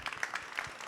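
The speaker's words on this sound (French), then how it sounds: "Continuez à applaudir Caroline Braun" Brief, faint audience applause at a conference on water preservation, a quick patter of many hands clapping heard from a distance.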